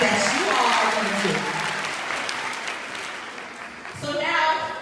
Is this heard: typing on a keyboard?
no